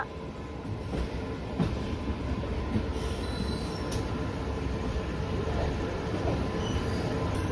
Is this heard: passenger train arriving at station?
yes